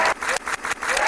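Applause in short bursts, several quick clusters of clapping separated by brief dips, moderately loud and close, with no voices over it.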